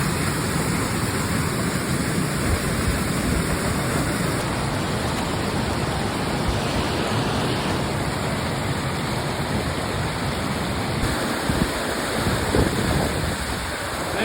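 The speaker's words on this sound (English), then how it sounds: "That's such a good waterfall." A large waterfall in the Rockies roars as a steady, dense wash of falling water that stays loud and close throughout, with some wind buffeting the microphone and no voices.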